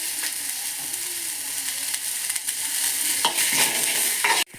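Garlic, onion and curry leaves sizzle and fry in a pan for a Mangalorean chicken sukka, a steady close crackle with occasional stirring scrapes and brighter bursts of spitting toward the end, no talking.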